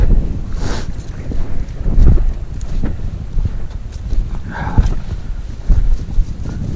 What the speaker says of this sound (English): Definitely more of a breeze right now.